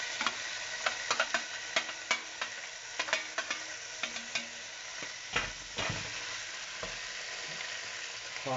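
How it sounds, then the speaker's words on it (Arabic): Onions hit a hot pan and fry with a light sizzle, while a utensil taps and scrapes in quick irregular clicks, nearby and fairly quiet, with a couple of louder rustling stirs later on. "On va mettre les oignons en premier."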